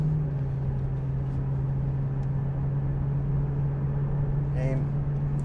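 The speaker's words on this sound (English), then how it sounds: "Hear that wheel bearing noise." Worn left rear wheel bearing on a 600,000-mile Lexus droning while driving, a steady low hum holding constant under road noise, with a brief voice near the end.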